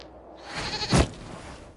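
A goat in Dragon Age Inquisition lets out a single short bleat near the middle, close and fairly loud over a low ambient game background.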